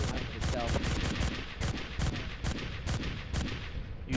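Machine gun fire in the video game MechWarrior Living Legends, rapid rhythmic bursts of shots repeating steadily, loud and close, with a voice talking faintly underneath.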